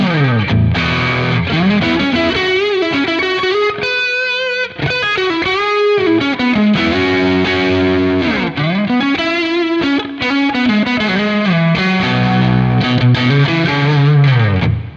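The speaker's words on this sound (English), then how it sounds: "So just a fun kind of Marshall sound there." Crunchy distorted electric guitar riffing loudly through a Marshall plexi-style amp into 4x12 cabinets, with sliding bends and sustained chords, steady and unbroken, no talking.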